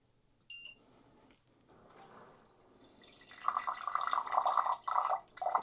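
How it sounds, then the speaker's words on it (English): Hot water pours from a Frizzlife WB99-H countertop reverse osmosis dispenser, starting after a short electronic beep and swelling into a steady close splashing stream that briefly dips near the end. "that is hot water coming out of there"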